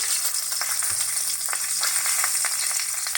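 Green chilies frying in hot oil with black cumin seeds, a steady bright sizzle up close with small crackles and pops scattered through.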